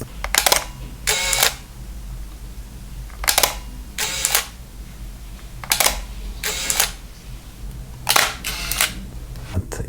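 Leica M9 rangefinder shutter clicks come in pairs, four double-clicks spaced a couple of seconds apart, soft and damped, close against a low room hum.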